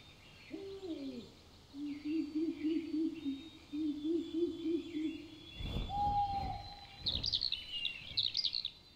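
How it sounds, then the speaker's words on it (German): An owl in the adventure game Mystery of the Ancients hoots in soft repeated calls, joined by a brief rising whistle and a tremulous trill, over a steady ambient game soundtrack. "Die Eule muss mir gefolgt sein."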